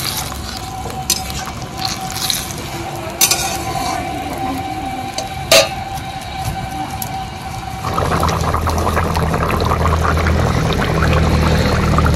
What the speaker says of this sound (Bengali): তারপর ঝোলটা ঢেলে দেব।